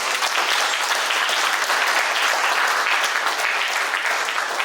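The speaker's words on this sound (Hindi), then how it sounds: "प्लीज जोरदार तालियां बजाइए प्लीज।" An audience claps loudly and continuously for the performing artists after a theatre show, a dense, even roar of hands with no break.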